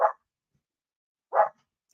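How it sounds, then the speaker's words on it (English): Two sharp single barks from a dog at a moderate distance, the second following after a pause of over a second, with no other sound in between. "Dogs are barking."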